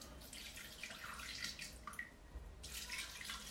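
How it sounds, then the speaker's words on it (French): Water trickling into a Thermomix bowl, a faint, uneven splashing and dripping stream heard close up, pausing briefly before pouring again. "on va mettre 220 g d'eau"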